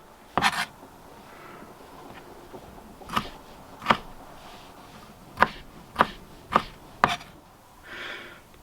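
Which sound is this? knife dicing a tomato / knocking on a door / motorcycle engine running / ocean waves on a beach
knife dicing a tomato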